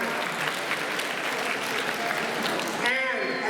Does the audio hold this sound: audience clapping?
yes